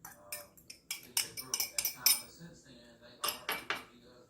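A fork and other metal cutlery clink in a kitchen while brownie batter is mixed, a series of bright close metallic taps and clatters in irregular bursts.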